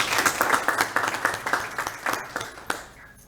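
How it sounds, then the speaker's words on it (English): Audience applause at an annual meeting of a senior adults organization, a brief burst of steady clapping from the crowd that fades out after about three seconds. "Let's give those 2 a round of applause as well."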